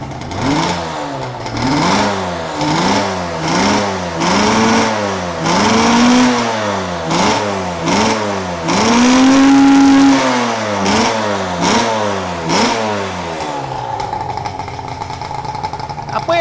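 A Yamaha RZ250 two-stroke motorcycle engine revs repeatedly in quick bursts, its pitch climbing and falling in a steady rhythm, loud and close, with one longer rev near the middle.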